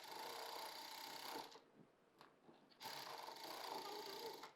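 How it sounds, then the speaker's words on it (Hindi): A sewing machine stitches a doubled eight-inch elastic band for a flared palazzo in two close, steady runs of whirring. A brief quiet pause with a few small clicks separates the runs. "यहाँ पर पक्की वाली सिलाई लगाएंगे।"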